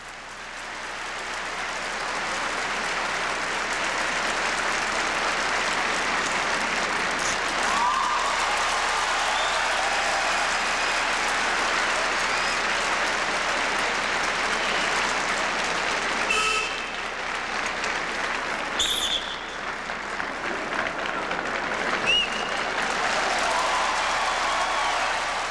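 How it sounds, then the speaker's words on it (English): Arena crowd applauding and cheering figure skaters, a dense sustained roar of clapping that stays loud and steady throughout, with occasional whistles and distant shouts rising above it. "cheered on by the crowd."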